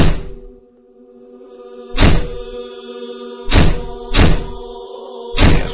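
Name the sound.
banging on a door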